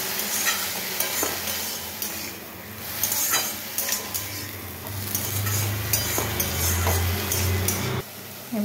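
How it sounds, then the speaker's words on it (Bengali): Eggplant and potato fry in a pan with ginger paste, a continuous close sizzle broken by repeated scraping stir strokes and light clinks of the utensil against the pan. "আর একটু ভাজা ভাজা করি"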